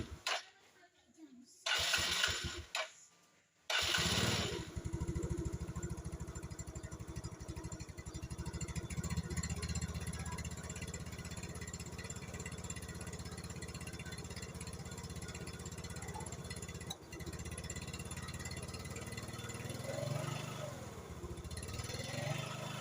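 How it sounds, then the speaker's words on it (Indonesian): A motorcycle engine with a faulty voltage regulator (kiprok) starts after a few sputtering bursts, then settles into a steady, fairly loud idle that runs close by for the rest of the clip. "Kita tes dulu sambil nyalakan mesinnya."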